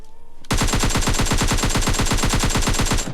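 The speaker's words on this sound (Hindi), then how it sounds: "फिलहाल देखो सामने से फिर से कोई गन साउंड्स आया था मेरे को इस डिस्ट्रिक्ट की साइड" Automatic gunfire in PUBG Lite, a loud close burst of rapid, evenly spaced shots that rattles on for nearly three seconds before stopping, with no voices.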